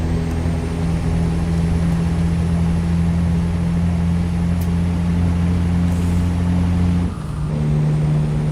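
A 600-horsepower truck engine in American Truck Simulator drones steadily under load, a low labouring hum with strong harmonics that dips briefly near the end before resuming, with no talk.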